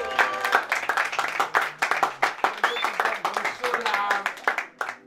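An audience of young people at a ceremony applauds, with bursts of clapping mixed with voices and cheering, fairly close and lively, talk running underneath.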